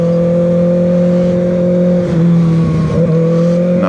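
A motorcycle rides past on a Charleston street, its engine droning steadily with a rising rev and whir as it goes by close at hand, no talk over it.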